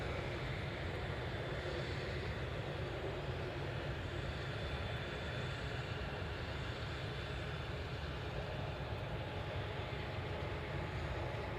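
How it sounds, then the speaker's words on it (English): A business jet engine warms up at Glasgow airport, heard as a steady, distant broadband roar with a faint high whine, continuous and without talk. "I'm not sure if it's the BizJet that's warming up opposite me, or a little bit off the 380."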